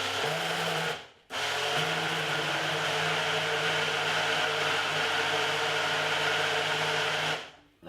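A small blender whirs steadily while mixing a breakfast smoothie, running for several seconds with a steady motor drone, cutting out briefly near the start before resuming and then stopping near the end.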